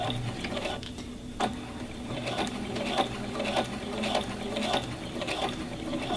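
A sewing machine stitching a half apron, its mechanism whirring and clattering close by with regular ticking needle strokes, and no talking.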